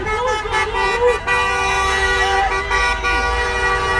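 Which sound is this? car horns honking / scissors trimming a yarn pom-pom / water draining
car horns honking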